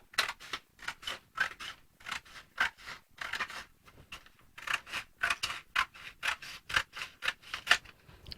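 Close, crisp scissor snips cutting a pattern piece off a pencil skirt draft, a steady rhythmic run of about twenty cuts with no talking.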